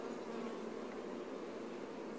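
Bees buzz quietly in an open beehive whose frames are full of honey and brood, a steady soft drone with no voices.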